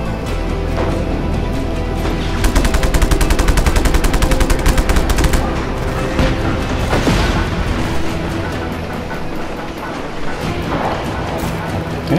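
Video game gunfire in Just Cause 3: a loud sustained burst of rapid automatic shots, then scattered shots and booms over a dense, noisy game background.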